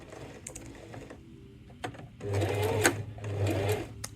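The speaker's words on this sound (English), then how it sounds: "you want to make sure that it's not getting caught up as you've been pushing it under the machine" A sewing machine stitches fabric for a plant pot holder, its needle running in short mechanical bursts with pauses between them, close and clear.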